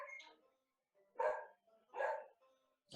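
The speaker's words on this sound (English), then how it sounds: "I gotta see my stupid dog's barking at" A pet dog barks in the background of a home during an online tabletop game session, with three distinct barks spaced about a second apart, sounding muffled and at a distance.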